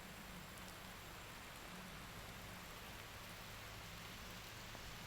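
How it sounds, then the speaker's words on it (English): Rain falling outdoors in a garden, a faint, even hiss of light drops that stays steady and distant throughout. "here comes the rain. It's raining."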